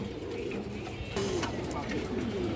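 Pigeons, a lively and strong pair of an old breed, cooing softly in low, rolling calls against faint background noise.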